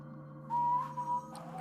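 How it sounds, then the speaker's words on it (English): Short whistled tune of the Magic Roundabout opening, a few sustained bright notes rising and falling over a steady low hum, close and fairly quiet. "You whistling the opening to the magic roundabout."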